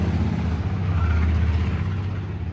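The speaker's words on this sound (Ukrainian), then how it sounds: "чекайте, машина їде" A car passing by outdoors, a steady low engine rumble and tire roar holding loud and close throughout with no voices over it.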